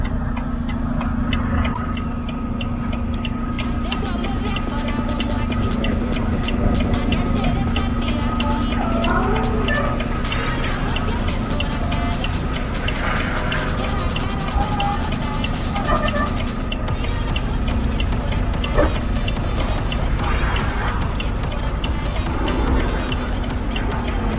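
A truck manoeuvres to park on a street in Montreal, its engine idling and rumbling steadily nearby with ticking clicks, while people talk over it throughout.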